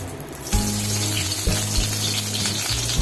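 Shukto vegetables fry in a little oil for a Bengali dudh shukto, giving a steady close sizzle over a constant low burner or fan hum, with no talking.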